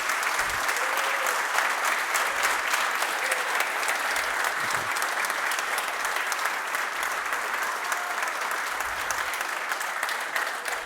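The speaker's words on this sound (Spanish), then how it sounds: "Un aplauso para nuestro candidato." Audience applause for a candidate at a Paraguayan political event with Efraín Alegre, a steady, dense clapping that fills the room at constant loudness from start to finish.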